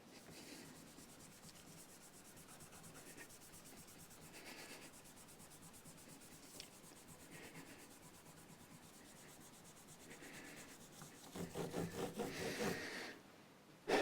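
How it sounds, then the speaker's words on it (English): Grime being rubbed off the body of a Fender Dimension bass, a faint, continuous scrubbing and rubbing close by, growing a bit louder near the end. "first of all trying to just get off as much of the grime as possible."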